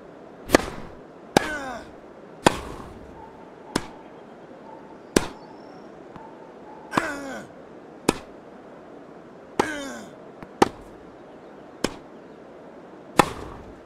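Tennis World Tour on PS4: a match of sharp racket-on-ball hits, about a dozen crisp strikes spaced roughly a second apart, each followed by a short scuffing tail over a quiet court ambience.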